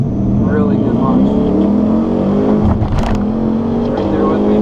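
A race car launches and accelerates hard, its engine droning loud and steady throughout at close range, with someone talking over it.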